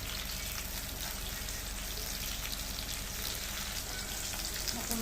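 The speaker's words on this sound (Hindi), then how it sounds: "और अब इसको भी हम थोड़ा फुल फ्लेम पे करके तलेंगे" Capsicum (bell pepper) fries on full flame in a dense, continuous sizzle that stays loud and even from start to finish, with no voices over it.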